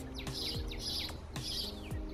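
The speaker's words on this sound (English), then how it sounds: "Now we can hear our happy birds." Birds chirping in a kitchen, quick repeated tweets in a steady rhythm over a faint background of music, fairly quiet overall.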